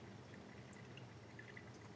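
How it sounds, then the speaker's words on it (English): Water streams steadily into a shower floor pre-slope during a flood test, a continuous soft pouring and trickling sound, faint and unbroken throughout. "the water's steady streaming in"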